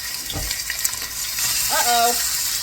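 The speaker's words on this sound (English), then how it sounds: "now I'm gonna add my chicken to the probably really hot oil" Chicken pieces dropped into very hot oil, giving a steady sizzle and crackle with a few pops, fairly close, with no speech over it.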